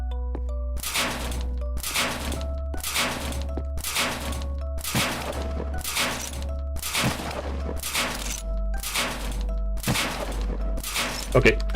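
Gunshots ring out in the Carnival Massacre video game, about ten sharp, evenly spaced blasts roughly once a second over a steady low hum of game ambience.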